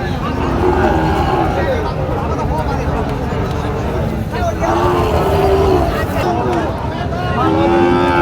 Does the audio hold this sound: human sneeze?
no